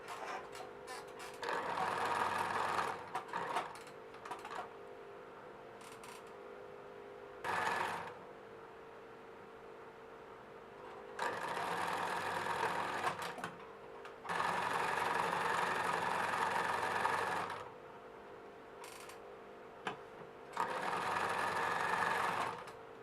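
A sewing machine stitches a half-inch seam on a waist jacket in several bursts of rapid, even whirring, some short and some lasting a few seconds, separated by quiet pauses.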